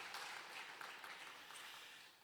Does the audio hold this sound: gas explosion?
no